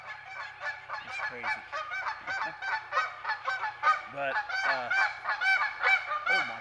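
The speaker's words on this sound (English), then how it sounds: "And we got geese flying over." A flock of geese honking as they fly over a turkey-hunting spot in California, repeated overlapping calls in a steady, busy chatter, fairly close and clear, with a brief spoken remark underneath.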